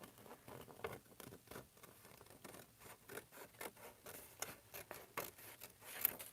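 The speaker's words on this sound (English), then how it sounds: "just cutting out the heart a little bit on the inside" Scissors snip a paper heart in soft, quick, rhythmic cuts, faint and close, with light rustling of paper between snips.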